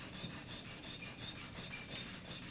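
Sandpaper rubbed back and forth on a chromatic harmonica in steady, soft strokes, a close, quiet, continuous scratchy hiss without talk.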